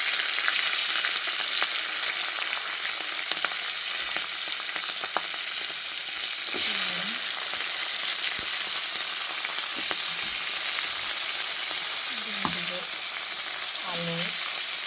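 Green chilies hitting a pan of spinach greens fry with a loud, steady close sizzle, dotted with crackles and a few sharper bursts of spitting oil.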